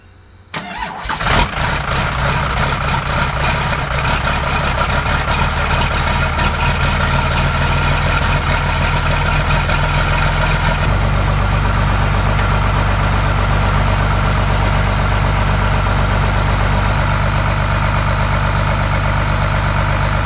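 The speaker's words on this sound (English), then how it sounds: "now we're gonna start the truck up" A Cummins diesel swapped into a truck cranks briefly and catches, then settles into a loud, steady idle that runs close to the microphone for the rest of the stretch, with no talking.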